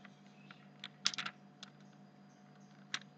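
Computer keyboard typing while entering a formula in Excel: a few sparse key clicks, then a short quick burst and one final tap, close and quiet over a faint steady hum.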